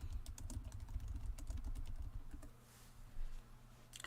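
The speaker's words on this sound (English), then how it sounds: "You type so fast" Rapid typing on a computer keyboard clatters in a dense, fast stream of close key taps, then slows to a few scattered strokes and a final burst, over a low steady hum.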